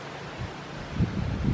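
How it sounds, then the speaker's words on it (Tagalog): Strong wind blowing through an outdoor garden with dried bitter gourd vines, a steady rushing roar with gusting buffets against the microphone, growing louder near the end. "Grabe ang hangin."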